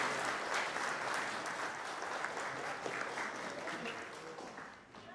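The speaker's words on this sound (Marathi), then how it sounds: "जोरदार टाळ्या" Audience applause at a franchise get-together event, a sustained, dense clapping that fills the whole stretch at steady loudness, easing slightly near the end.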